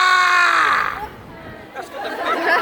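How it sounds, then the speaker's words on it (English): A London tour group screams "Ah!" together with arms raised, a loud burst of crowd yelling at the start that fades into babble and chatter, then rises again as people talk. "raise both your arms and scream, "Ah!""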